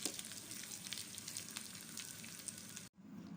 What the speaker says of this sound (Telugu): ఒక 2 స్పూన్లు మినపప్పు, ఇలా తరిగి పెట్టుకున్న కొబ్బరికాయ ముక్కలు వేసుకొని ఊరికే పచ్చివాసన పోయేలాగా కొంచెం ఒక తిప్పుకొని వేపుకోవాలి